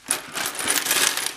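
A pile of about two hundred circulated Kingdom of Italy coins, all copper, clatters and jingles continuously as they are dropped and shifted together, a dense, close metallic rattle with no talking.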